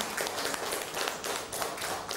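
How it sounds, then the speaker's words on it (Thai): A classroom of students claps for a classmate, with quick, dense, overlapping hand claps at a fairly soft, even level throughout and no speech. "ปรบมือให้กับ ธนโชตจันเพชร นะคะ"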